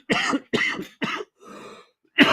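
Several harsh coughs and throat clearings from a person on a podcast, three sharp bursts in quick succession, then a rougher raspy clearing and one final loud cough, close to the microphone.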